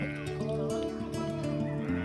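Goats on a farm in Cuba bleat in wavering, overlapping cries, several animals calling continuously at moderate distance over the whole short stretch.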